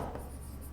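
Writing on a board during a mathematics lecture, heard as a short, steady scratching stroke, close and fairly quiet.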